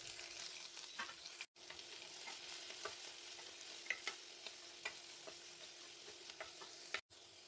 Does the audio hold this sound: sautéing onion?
yes